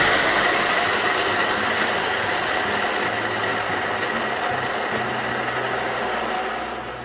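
A nut butter grinding machine runs steadily with a constant dense whirring drone, close and loud, fading slightly at the very end, with no voices.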